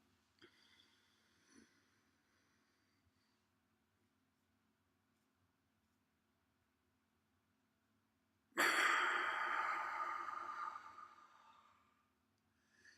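A slow box-breathing cycle: a quiet inhale, a long silent hold, then one loud, close, drawn-out breath out through the mouth that fades over several seconds, with no talking.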